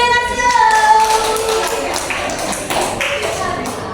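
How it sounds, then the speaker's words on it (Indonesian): A group claps during an Indonesian teacher-training workshop for the Guru Penggerak program. Close, loud, uneven bursts of hand claps come over a brief ringing tone. "Tepuk tangan untuk Fatih."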